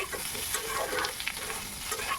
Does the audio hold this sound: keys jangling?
no